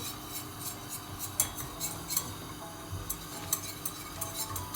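Butter and flour are roasted in a pot for lentil soup, a metal spoon scraping and tapping against the pot in irregular clinks over a faint background hiss, with no voices.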